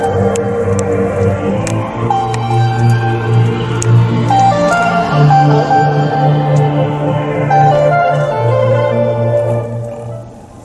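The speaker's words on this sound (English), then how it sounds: "The sound system sounds brilliant." Music with steady harmonic tones and a low bass line plays continuously at a moderate level from the sound system in a quiet 2023 Kia Carens 1.5 cabin.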